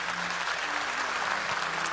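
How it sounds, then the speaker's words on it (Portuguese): A church congregation claps for a moment during an evangelical youth service, a steady, close wash of applause with no break. "Vamos aplaudir ao Senhor poderoso."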